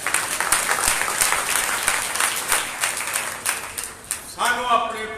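A church congregation at a Sunday service breaks into sustained applause, a dense wash of clapping that fades out as a voice begins speaking at the end.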